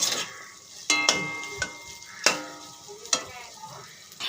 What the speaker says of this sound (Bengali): আমি সুন্দর করে কষিয়ে নিচ্ছি আমি চাল দিয়ে আমি লঙ্কার গুঁড়ো দিয়েছি